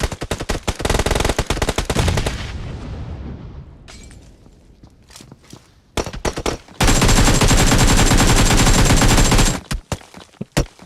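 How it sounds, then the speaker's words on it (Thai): Video game gunfire, loud, dense rapid machine-gun bursts that fade into scattered single shots, then a long sustained automatic volley, ending in a few more sharp cracks. "3 กอยิงมันเลย"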